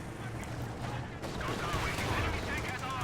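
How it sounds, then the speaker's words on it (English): Rapid autocannon fire from a 222 armored car in a World War II real-time strategy battle, a dense burst of gunfire and impacts layered with battle noise, moderately loud. "This Vickers in a bit of trouble, taking a bit of damage from this 222's autocannon"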